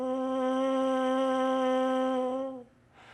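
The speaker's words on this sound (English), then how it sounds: "hold your mouthpiece with your index finger and thumb, like this, and gently place it on your lips" A steady buzz from lips pressed into a trombone mouthpiece without the instrument, one sustained reedy tone held for about two and a half seconds before it stops, close and clear.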